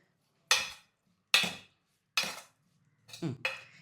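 A spoon mixes clam meat with salt and a little water in a metal pot, four distinct clanking scrapes spaced about a second apart, close and isolated with silence between.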